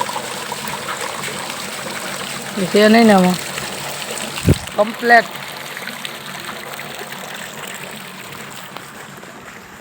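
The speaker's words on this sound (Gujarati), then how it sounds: "इधर तो मोटर चालू है और ये प्योर पानी हम पिएंगे." Water running from a motor pump at a dam, a steady close trickle and gush that continues throughout while people talk over it, with a couple of brief louder knocks midway.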